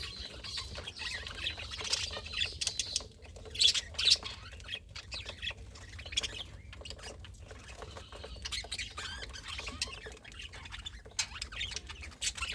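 A flock of caged birds squawks and chirps in scattered bursts, with rustling and light pattering between calls.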